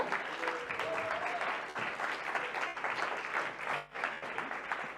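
Conference audience at the Mobile Social Congress applauding as a speaker takes the stage, a steady wash of clapping with a few voices mixed in, briefly dipping before picking back up.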